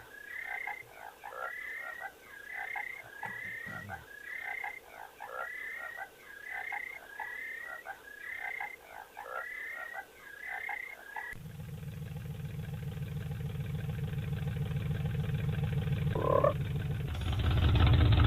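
In the video game Alone in the Dark, a frog croaks in a steady, rhythmic series of about a dozen calls. The croaking then stops and gives way to a low, rising engine-like drone.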